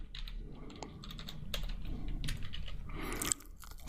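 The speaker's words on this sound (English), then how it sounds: "this time I'm going to type in callback" Fingers typing on a computer keyboard, a quiet close run of uneven key clicks with short pauses and a firmer final tap.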